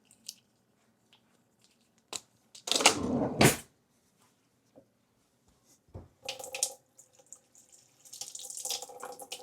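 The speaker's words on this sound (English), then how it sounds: "Let's get a couple tablespoons of water in there." A short burst of water pours into a container, loud and splashy for about a second, followed by soft clinks and faint handling sounds.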